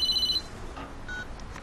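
A telephone rings with a bright electronic trill in a quiet office setting, one burst of ringing at the start and a fainter chirp later, with no talking.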